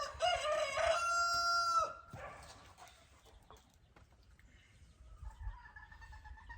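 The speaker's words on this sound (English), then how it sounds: "I believe them chickens is somewhat wound up today" A rooster crows loudly and close for about two seconds, followed by quieter scattered clucks and rustling from nearby chickens.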